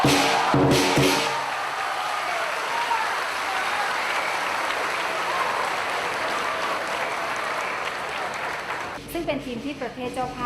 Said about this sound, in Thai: พร้อมปรบมือและเสียงเชียร์จนจบการแข่งขัน